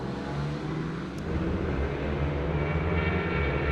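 Junior racing cars at Zwartkops Raceway roll out together onto the track for a warm-up lap, a steady, loud blend of engine drone that swells slightly partway through, with no talking.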